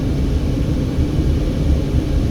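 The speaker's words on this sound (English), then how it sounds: "there's a tourism helicopter up there in the sky" A tourism helicopter passes overhead near Hoover Dam, heard as a continuous low rumbling drone that stays fairly loud and even throughout, mixed with road and vehicle noise.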